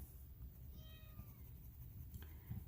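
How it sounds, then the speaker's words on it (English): A kitten gives one faint, high meow early on, quiet against steady low background noise, followed by a few soft rustles. "So those meows are meows of joy."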